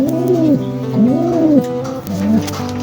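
At a loft during a 270 km derby race, racing pigeons give three close, loud, throaty coos in quick succession.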